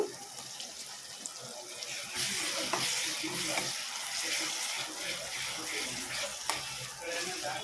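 Freshly ground homemade ginger garlic paste sizzles in oil in a pan, with steady frying hiss and scraping stirs throughout, louder in the middle stretch, alongside some running-water-like noise.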